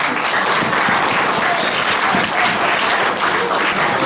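A church youth fellowship audience gives the pastor loud, sustained applause: dense clapping that stays steady and close for the whole stretch, with no break.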